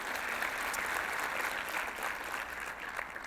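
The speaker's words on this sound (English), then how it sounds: "yeah, you can clap for that." A church congregation claps together during a sermon, a steady wash of applause at moderate distance lasting a few seconds.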